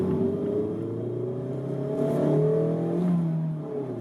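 Mazda MX-5 Miata ND roadster with a 2.0 L engine, top down, pulling steadily under acceleration: a continuous engine drone with rising harmonic tones, moderately loud and close, without speech.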